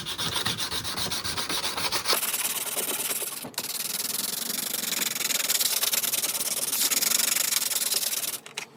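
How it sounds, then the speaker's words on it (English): High-grit sandpaper rubs rust off a steel knife blade, working with the grain in steady, close, continuous back-and-forth strokes with one brief pause partway through and no talking. "I'm still removing the rust. So start with the high grit."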